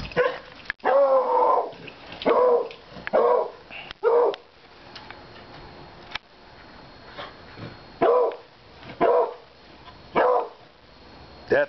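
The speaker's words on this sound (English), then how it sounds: "Look at that dog." A dog barks in short repeated bursts, some paired, loud and close with quiet gaps between, alongside faint growls and yips.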